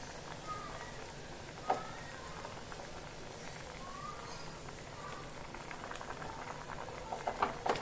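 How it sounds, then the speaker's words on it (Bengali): Gravy for a mango fish curry simmers in a pan, giving a quiet, steady bubbling hiss with occasional soft pops and a few brighter crackles toward the end. "দেখুন ঝোলটা ফুটে উঠেছে।"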